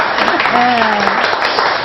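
A studio audience at a Korean televised lecture breaks into brief, steady applause, a dense wash of clapping heard under a short spoken remark.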